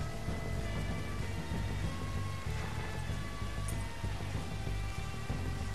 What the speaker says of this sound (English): It's also started raining and I start panicking,